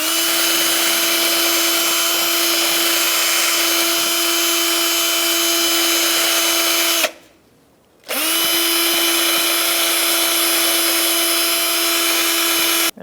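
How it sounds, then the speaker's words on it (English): A power drill spinning a wire brush while cleaning Fiat 500 rear brake parts runs steadily at a loud, constant whine, stops for about a second, then starts up again and keeps running. "I'm using a brush on a drill."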